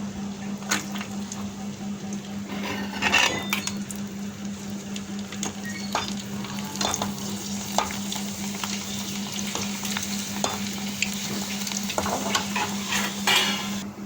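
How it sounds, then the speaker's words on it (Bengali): Papad fries in hot oil with a steady, close sizzle broken by scraping and clicking as the pieces are stirred and turned, over a low constant hum and with no talking. "এই যে দেখো পাঁপড়গুলো ভাজলাম"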